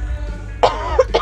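A sick person coughs during a Life Is Strange True Colors playthrough, with a couple of short, close coughs and throat-clearing bursts over low background hum.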